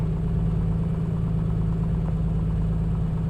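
Piper Comanche 250 engine idling at low RPM in Microsoft Flight Simulator, a steady deep droning hum that holds even and continuous throughout with no talk.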